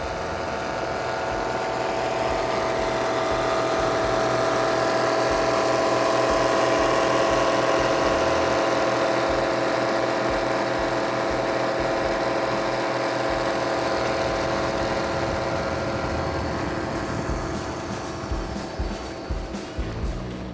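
Mercury Racing Bulldog 540 engines on racing powerboats rumble loudly and steadily at close range, a deep continuous roar that swells slightly and then wavers toward the end.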